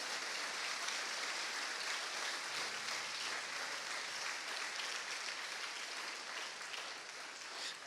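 A church congregation applauds the Lord, a steady, even roar of many hands clapping that fills the whole stretch without pause and with no voices on top.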